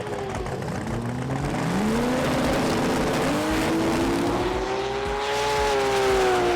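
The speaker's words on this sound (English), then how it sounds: "Out next is the newly repaired Willis of Davy Murdoch alongside the Supra of Gary Gooding" Two drag racing cars, a Willys and a Toyota Supra in a Street Eliminator class at the FIA European Finals, roar loud and continuous as engines climb in pitch through launch and acceleration, with harmonics rising steadily over several seconds.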